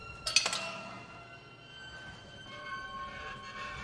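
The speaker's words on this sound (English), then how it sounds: "He's playing with trains." A toy train runs in the Bendy and the Dark Revival video game: a faint, quick metallic clinking at the start, then a soft, steady rolling rumble with light rattles, heard alone.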